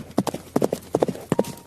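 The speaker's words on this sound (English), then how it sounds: "a horse rider arrived at the palace." Horse hooves clip-clop in a steady, fairly close rhythm as a rider arrives at a palace, each pair of hoof strikes crisp and distinct with nothing else heard.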